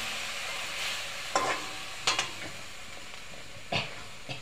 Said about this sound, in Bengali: এখন ডিমের ভিতর একটু তেল দিয়ে দেব